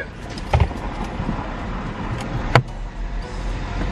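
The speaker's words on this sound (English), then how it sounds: "I'm driving out of the drive-thru now" Car pulling out of a Starbucks drive-thru, heard from inside as a low engine hum with a couple of sharp knocks and clunks, no talking.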